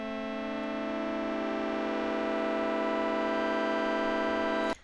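A synthesized septimal minor seventh chord with an added fourth, built in just intonation, sounds as one sustained, bright and buzzy stack of tones, held steady for nearly five seconds before cutting off abruptly.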